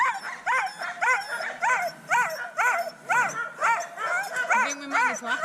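Sled dogs in a snowy Lapland kennel yip and whimper in quick succession, a steady run of high, bending whines and short barks, close and fairly loud with no talk over them.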